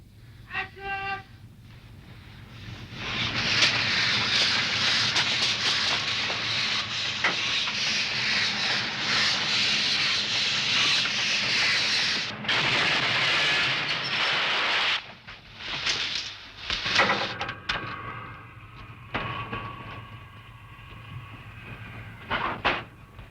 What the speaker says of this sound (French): Il n'est pas si simple d'organiser un déraillement ou un tamponnement.